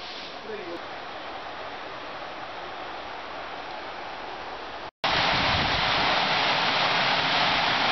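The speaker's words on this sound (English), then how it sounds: "the water is definitely coming across the dam right now" Water pouring over a countryside watermill dam makes a steady, broadband rushing roar, constant and close, that jumps louder after a brief cut midway; no voices.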